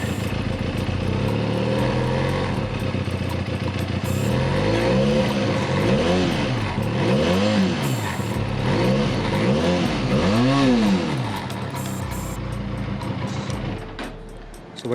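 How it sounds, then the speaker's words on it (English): A 2021 Benelli Leoncino 500 twin-cylinder scrambler motorcycle idles with a steady exhaust burble, then is revved repeatedly in several rising-and-falling sweeps before settling back to idle, close and loud with no talking. "let's just quickly go to the exhaust note of this motorcycle"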